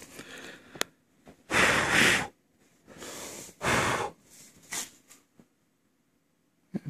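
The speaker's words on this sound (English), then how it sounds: "Just breathing on it" Short, close breaths blown onto a propeller balancer, coming in several soft bursts separated by quiet pauses.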